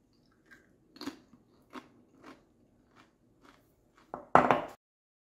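Someone chews homemade jalapeno salsa, likely with chips, during a taste test, with sparse close crunches that end in a louder crunching burst.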